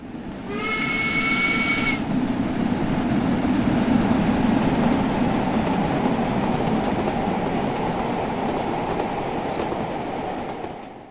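Steam locomotive running on a West Cornwall railtour in Train Sim World 5: a shrill whistle blast opens, then a loud, steady rumble of the engine and rolling wagons continues without pause, easing slightly at the end.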